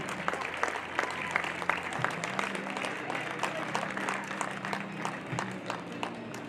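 A crowd at a North Catholic baseball team senior recognition applauds a graduating player, with moderately distant clapping running steadily and a low hum underneath.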